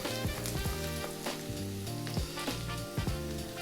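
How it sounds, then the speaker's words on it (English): Garlic and ginger sizzle hard in hot oil for chicken fried rice, a dense, steady crackle with a few stirring knocks, close and loud, with no talk. "we're going to drop in our garlic and ginger. And again, a few seconds to add to the flavor of the oil"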